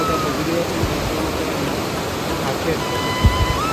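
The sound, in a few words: water flowing over a small dam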